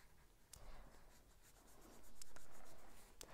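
Coloured pencil shades on paper with soft close scratchy strokes, growing heavier and louder toward the end, punctuated by a few sharp ticks, with no talk.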